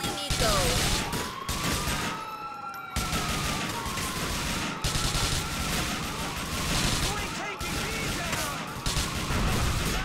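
Rapid gunfire in Grand Theft Auto IV during a heist, loud sustained bursts of shots with police sirens wailing behind, broken by a couple of brief pauses.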